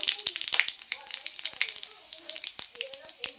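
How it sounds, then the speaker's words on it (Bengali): Panch phoron spices crackling and popping in hot oil, quick sharp sizzling bursts in an uneven rhythm, fairly close. "আমি তেলের মধ্যে এখন একটু 5 ফোড়ন দিয়ে দেবো।"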